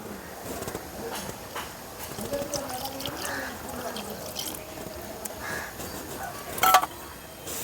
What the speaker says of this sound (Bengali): আর দিয়ে দিচ্ছে আমি কিছুটা দুধ।